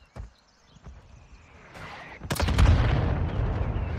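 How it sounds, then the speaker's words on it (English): Mortar strike landing during a Warzone match on Rebirth Island: a faint pop and quiet lull, then a swelling roar as a loud nearby explosion bursts in, followed by a long rumbling tail. "Mortar strike inbound now."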